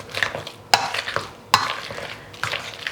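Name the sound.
mashing avocado for guacamole with a potato masher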